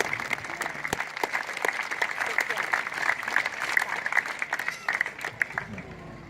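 Audience applause at an Independence Day event at Rock Ledge, honoring a Civil War reenactor; brisk, crackling clapping from a crowd, fairly close and continuous throughout.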